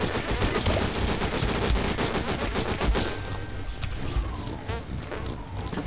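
A weapon in the arena shooter Morphies Law fires without a break in a fast, loud, steady burst for about three seconds, then gives way to quieter rattling and background game sounds.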